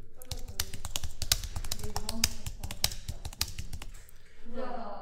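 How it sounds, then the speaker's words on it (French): Fast typing on a computer keyboard: a quick run of about twenty crisp, close key clicks in an uneven rhythm, followed by a brief voice at the end. "vous tapez votre texte ou vous le collez, bien sûr, qui vient d'ailleurs"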